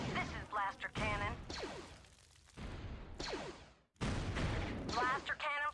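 A blaster cannon in a Star Wars video game fires several sharp booming blasts, some in quick bursts, with pauses between, and voices talk over parts of the barrage.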